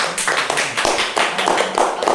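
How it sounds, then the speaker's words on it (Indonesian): A crowd claps hands together in steady, dense applause, loud and close for about two seconds with no voices over it. "tepuk tangan dulu deh."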